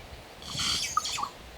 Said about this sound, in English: We later used this footage to identify the bird and determined that it was a yellow-rumped cacique.